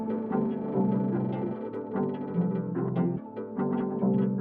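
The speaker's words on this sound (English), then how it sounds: "this got halftime completely on it" Music track played with a halftime effect and pitched down an octave, producing a slowed, dense, murky groove of low tones and smeared beats that runs continuously with a brief dip near the end.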